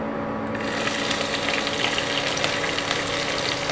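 Finely chopped green chillies dropped into hot oil with whole cumin, which breaks into a loud, steady sizzle and crackle just after the start and holds for the rest of the clip.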